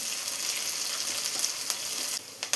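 Sweet potato stir-fry with curry leaves sizzles steadily in a pan, a soft continuous frying crackle with a few sharper pops near the end.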